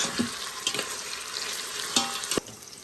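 Onions sautéing in a pan for mutton biryani: a continuous gentle frying hiss with a few sharper scrapes and taps from stirring, close but moderate in level, with no one speaking.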